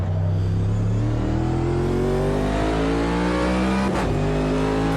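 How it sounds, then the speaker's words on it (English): A NASCAR Next Gen V8 screams around Le Mans in the racing game Automobilista 2, its loud, steady engine note rising as it accelerates, with a brief gearshift dip near the end. "this screaming V8 NASCAR going around the track"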